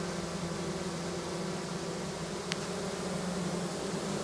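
A honey bee colony fans loudly, making a dense, steady buzzing drone that fills the whole stretch at close range, with no talking.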